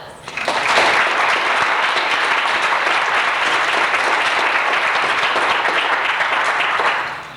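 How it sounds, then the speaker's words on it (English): An audience at a Christmas recital applauds: a dense, even wash of many hands clapping, loud and sustained for several seconds before fading at the end. "I think she deserves a round of applause."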